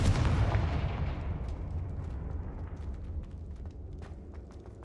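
A Confringo fire spell from Hogwarts Legacy blasts with a heavy, booming explosion that starts loud and rolls away into a long fading rumble with scattered crackles.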